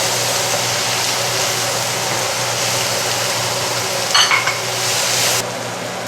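Minced garlic and vegetables sizzle steadily in a hot skillet while being stirred, a constant loud frying hiss with a brief burst of utensil scraping near the end.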